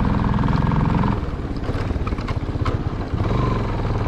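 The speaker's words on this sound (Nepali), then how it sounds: "मैले एमजेड बाइकलाई टर्ट बाइक बनाइदिएको है" An MZ motorcycle converted into a dirt bike runs close by with a steady, throbbing engine note, shifting slightly in pitch partway through, over outdoor wind noise.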